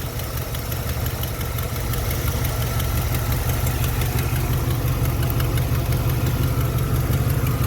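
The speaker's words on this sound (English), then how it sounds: "Got an exhaust manifold leak over here somewhere." A 1991 Chevy Silverado idles up close with a leaking exhaust manifold at one of the headers, giving a steady low rumble with a rapid ticking pulse layered over it.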